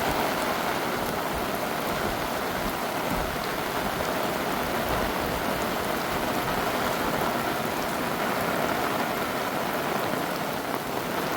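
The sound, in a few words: heavy rain with wind in village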